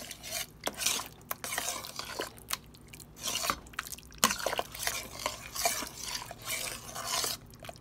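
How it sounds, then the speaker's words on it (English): Cream is stirred into chicken and dumplings in a cooking pot, giving soft repeated scraping and sloshing strokes with occasional light clinks of a utensil against the pot at close range. "Add half of this. And I'm going to stir it in."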